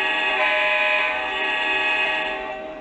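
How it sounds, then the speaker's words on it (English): A Lionel Legacy model train's brake sound effect gives a steady, high metallic squeal with layered tones, held for nearly three seconds before easing off slightly at the end. "This is actually a train brake."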